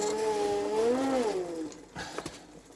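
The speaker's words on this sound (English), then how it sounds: "I'm just spinning the wheel slowly and I apply a little bit of throttle" A wheel on a 350 W BLDC motor with a regenerative-braking controller is spun slowly under light throttle, giving a close electric whine whose tones rise and dip before fading into light clicks and rattles.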